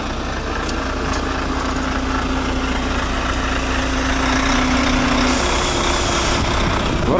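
A Volvo truck arriving and maneuvering in a yard: its diesel engine drones loud and steady close by, with a sustained tone that holds and then breaks off and a hissing burst toward the end, with no talking.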